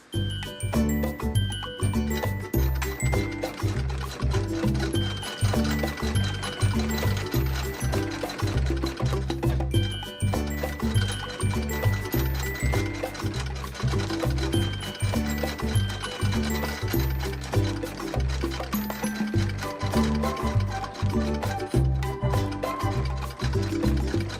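An antique 1912 Singer 27 sewing machine stitches through a quilting test sandwich for free-motion quilting, giving a fast, steady, rhythmic mechanical clatter that runs on without a break, up close.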